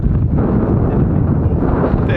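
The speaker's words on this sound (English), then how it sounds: "Bit windy." Strong wind buffets the microphone beside the water on a Welsh road trip, a loud, continuous low roar with gusty swells and no clear voices.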